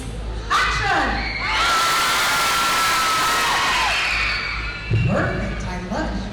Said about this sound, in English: When I call action, I want everyone in here to scream as if you're standing on a trap door.